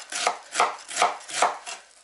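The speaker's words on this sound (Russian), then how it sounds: "И меленько, прям меленько, девчонки, режу капусту." Kitchen knife finely chopping cabbage on a board for meat-and-cabbage chebureki, four crisp evenly spaced cuts, close and clear with no talk.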